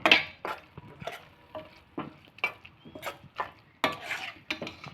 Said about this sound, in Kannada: ಸ್ವಲ್ಪ ಕೊತ್ತಂಬರಿ ಸೊಪ್ಪನ್ನ ಹಾಕ್ತಾ ಇದ್ದೀನಿ ಹಾಕ್ಬಿಟ್ಟು ಮಿಕ್ಸ್ ಮಾಡಿ ಹೀಗೆ